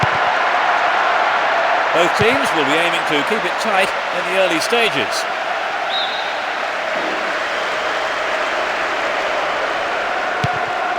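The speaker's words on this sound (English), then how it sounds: "Crowd are creating a tremendous atmosphere." Stadium crowd noise from a PES 6 football video game, Chelsea against Milan, keeps up a steady roar throughout while a commentator talks over it, with a brief whistle-like tone sweeping in the middle.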